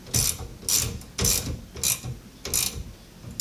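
A ratchet wrench tightens a battery terminal on a Camaro during a battery replacement, giving five or six sharp, close clicking bursts in a steady back-and-forth rhythm with no talking.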